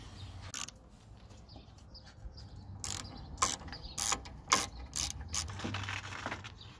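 Lower radiator hose being worked loose on a Chevy 454 big-block engine, giving a run of sharp, close mechanical clicks and ratcheting snaps, several in quick succession in the second half, alone with no talk.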